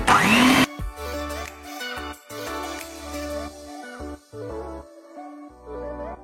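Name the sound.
electric mixer blending hardened cream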